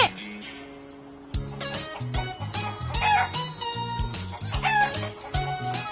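Chicken crowing and clucking, a rooster's cock-a-doodle-doo followed by repeated clucks over a bouncy, rhythmic music track, with no talk.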